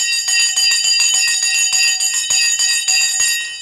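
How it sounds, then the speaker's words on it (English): A stock exchange closing bell rings continuously on a CNBC broadcast, a steady loud metallic ringing with rapid repeated strikes throughout, no voices over it. "The bell has gone, and we're in the after hours"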